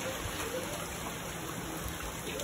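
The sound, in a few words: rain falling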